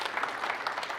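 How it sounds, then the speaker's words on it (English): Brief burst of audience applause for Micah at a business seminar, a dense crowd of clapping hands lasting about a second. "clap loudest for Micah"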